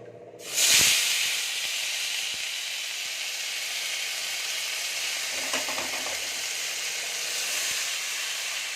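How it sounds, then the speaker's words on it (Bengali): Vegetables drop into hot oil in a kadai just after lentil dumplings were fried. A sharp splash of sizzle gives way to a loud, steady hiss of frying that continues throughout. "এবার ওই তেলের মধ্যে আমি সবজিগুলো দিয়ে দেব।"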